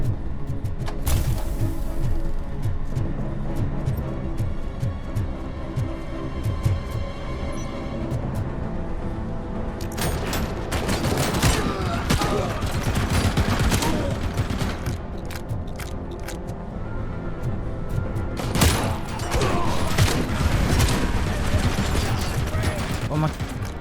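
Gunfire rakes the player in the RoboCop video game, with dense bursts of shots and mechanical clatter that come in heavy waves over a steady background of game noise.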